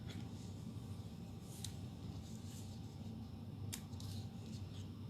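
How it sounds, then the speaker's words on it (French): Scissors snip ribbon at an angle for a simple handmade card, making a couple of sharp, crisp cuts close by over a quiet background. "Et je les coupe en biseau."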